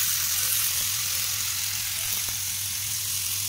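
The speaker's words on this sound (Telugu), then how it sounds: "ఆయిల్ వేసుకున్నాము. ఇప్పుడు ఉట్టి ఈ దుంపలే వేసేస్తాను." Potatoes sizzling in hot oil in a kadai: a loud, steady frying hiss running throughout with no talk.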